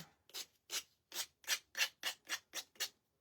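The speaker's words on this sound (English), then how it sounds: "we're going to take a little emery board and go in there and sand off that excess" Emery board sanding excess material off a handmade craft gnome in nine short, even back-and-forth rasping strokes, close and fairly quiet, with no talking.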